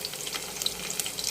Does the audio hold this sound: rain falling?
no